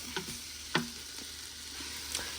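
Onions fry in a pot for beef stew, a soft steady sizzle broken by a few sharp stirring clicks and scrapes, with no voices.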